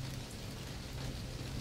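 Steady rain falls in a dense, even patter with a low rumbling undertone, continuous and moderately loud with no voices over it.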